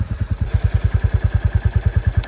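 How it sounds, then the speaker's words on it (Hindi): A new Royal Enfield Classic 350 Chrome Bronze motorcycle idles close by, its single-cylinder engine thumping in a steady, even rhythm of loud, regular pulses with no voices. "ये बाइक स्टार्ट हो गई। आपको देखना है साउंड इसका"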